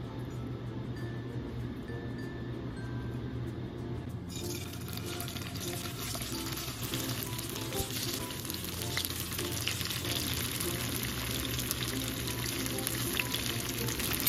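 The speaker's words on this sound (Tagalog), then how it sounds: "prituhin muna natin tong ating tofu" Tofu pieces fry in hot oil in a pan, a quiet hiss that swells into a loud, dense crackling sizzle after a few seconds and holds steady.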